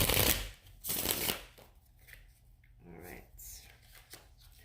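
A couple of quick riffling shuffles of a tarot card deck up close, followed by softer handling and tapping of the cards.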